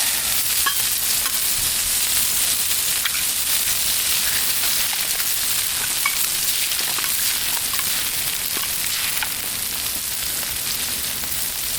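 Eggs frying on a Blackstone griddle beside bacon, a dense, steady close-up sizzle with scattered tiny pops, continuous and without talk.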